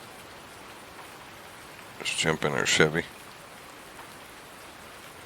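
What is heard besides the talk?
rain falling in video game Farming Simulator 19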